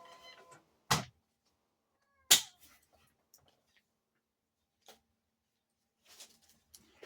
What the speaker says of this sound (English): Everyone's going to be like, hey, cat won't shut up. Keeps interrupting you.